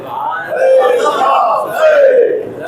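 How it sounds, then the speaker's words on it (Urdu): Crowd at a Muharram gathering in Shivli, Azamgarh chanting Labbaik ya Hussain slogans, massed voices rising in two loud surging waves, close and continuous. "لبیک یا حسین، لبیک یا حسین، نعرے"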